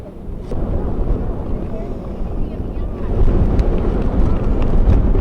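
A strong gust of wind roars across the microphone at an outdoor high school baseball game, a steady loud rush that builds toward the end, with talk faintly beneath it.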